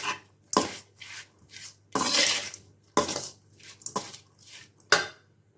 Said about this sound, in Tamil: நல்லா கலந்துக்கலாங்க